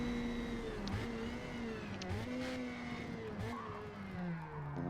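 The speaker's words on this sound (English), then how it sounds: "these little Formula Mazda cars are just an absolute blast to drive" Formula Mazda race car engine in Forza Motorsport at the Nürburgring, a buzzing high-revving whine rising and dropping with each gear change, steady and fairly quiet throughout.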